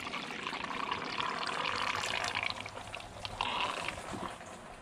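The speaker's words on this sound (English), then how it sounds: "I'm just putting water because I don't know if anything leaks." Water from a one-gallon jug poured into the radiator of a 1970 Datsun 521 during restoration, a steady gurgling stream with glugs and small metallic clinks, close and continuous.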